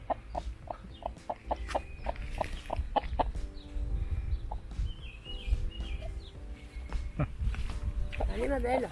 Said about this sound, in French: Donc ça, c'est typique de la poule qui a trouvé.